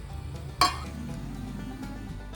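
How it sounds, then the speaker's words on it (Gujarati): Asafoetida dropped into hot oil for a lemon pickle spice mix gives a sudden brief sizzle burst, then a low steady frying hiss over background hum, with no talk. "હવે થોડું ગરમ છે ત્યાં આપણે થોડી હિંગ એડ કરી દઈશું"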